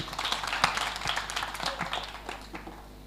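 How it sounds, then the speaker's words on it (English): Audience at a women in fintech hackathon clapping, a brief burst of scattered applause from a modest room crowd that fades out over a few seconds. "Can you give yourselves all a round of applause?"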